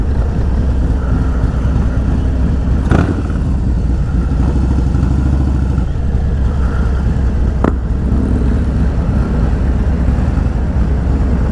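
Loud, constant engine drone and road rumble from a vehicle driving on a road trip, heard from inside with a steady low hum and a couple of brief knocks, no talking.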